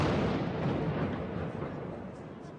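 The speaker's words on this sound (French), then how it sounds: "Une deuxième explosion." An explosion goes off during a police assault on a supermarket, a loud, dense rumbling blast that fills the clip and slowly decays, with no talking.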